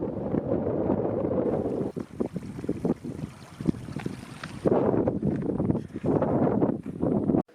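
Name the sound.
strong wind blowing on the microphone at the Snowy River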